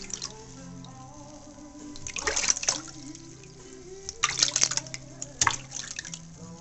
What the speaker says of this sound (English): A little bit more rinse on the top of the head.